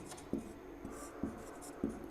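Chalk or marker strokes on a board during an electrical engineering lesson on DC machine losses, with about four short scraping taps spaced roughly half a second apart, close and fairly quiet, with no talk.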